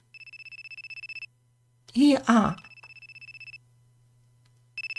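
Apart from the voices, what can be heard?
cell phone ringtone in a visual novel video game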